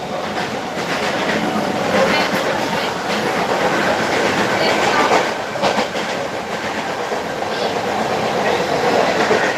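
A moving train rattles loudly and steadily, its wheels giving a continuous clickety-clack with faint voices in the background.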